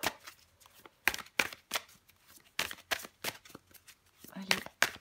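Tarot cards are shuffled and drawn in a rapid series of close, crisp riffling and slapping bursts during a Virgo love reading. A voice speaks faintly beneath the card noise.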